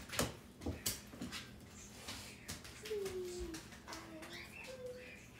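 Pet birds, likely pigeons or doves, coo indoors in several soft, low calls in the second half, after a few sharp knocks and rustles early on.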